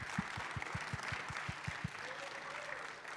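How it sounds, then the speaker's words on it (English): Online hackathon awards crowd giving winners another round of applause, fairly faint, with distinct low claps in the first two seconds before the sound fades into background murmur. "So another round of applause, please,"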